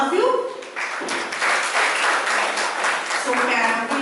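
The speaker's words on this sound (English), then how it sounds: "And again, one round of applause for all of you." Participants at a teachers' life skills training session give a round of applause, scattered clapping of a modest group in an indoor room, with voices speaking at the start and end.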